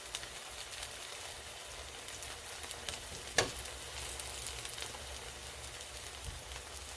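A squash pancake sizzles in oil in a pan over medium heat, giving a steady, close hiss and crackle with one brief louder pop partway through.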